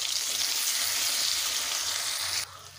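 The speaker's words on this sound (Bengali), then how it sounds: "এবারে দিয়ে দেব বেটে রাখা সর্ষে, পোস্ত, চালমগজ, কাঁচা লঙ্কা বাটা।" A paste of ground mustard, poppy seeds, melon seeds and green chili hits hot spiced oil in a pan for a pabda fish curry, giving a loud, steady, close sizzle that drops sharply near the end.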